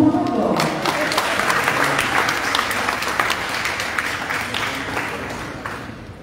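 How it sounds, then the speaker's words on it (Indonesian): Audience at the opening of the Congress of Indonesian Diaspora in Nusantara applauds, a dense, sustained clatter of many hands that begins right after a brief voice and gradually fades. "Tepuk tangan dong."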